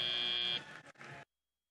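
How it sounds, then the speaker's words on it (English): A loud electronic buzzer blares steadily to end a robotics competition finals match in Greenville, then cuts out with a short stutter before falling silent. "And there's the buzzer."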